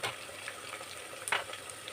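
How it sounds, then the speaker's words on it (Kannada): Finely chopped onions fry in a pan with a soft, steady crackling sizzle, faint and continuous with a few brief pops. "ನೋಡಿ ಈಗ ಈರುಳ್ಳಿನ ಈ ಥರ ಫ್ರೈ ಮಾಡ್ಕೊಂಡಿದ್ದೀನಿ."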